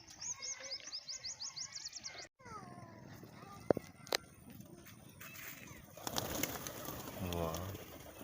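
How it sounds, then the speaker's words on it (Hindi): Pigeons at a village loft coo and flutter nearby, with soft chirps and scattered bird calls over a steady outdoor background, a brief pause midway, then low rounded cooing notes near the end. "पहुंच चुके हैं कबूतरों के पास।"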